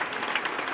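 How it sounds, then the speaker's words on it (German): Theatre audience applause at the Heldenplatz premiere, a dense, steady wash of many hands clapping with no pauses. "Und das mit großem Applaus."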